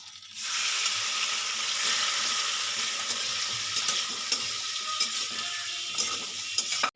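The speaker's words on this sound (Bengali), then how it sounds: "এই তেলের মধ্যে আমি চিংড়ি মাছটা ভেজে নেব" Prawns rubbed with salt and turmeric frying in hot oil, a steady loud sizzle and crackle running throughout with occasional brief spits and pops.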